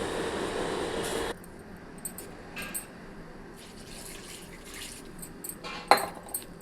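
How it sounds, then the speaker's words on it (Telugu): Half a glass of water is poured into a cooking pot of spiced drumstick curry in a home kitchen, a short splashing gush followed by quieter clinks and handling sounds. "ఒక హాఫ్ గ్లాస్ వాటర్ వేసుకోండి."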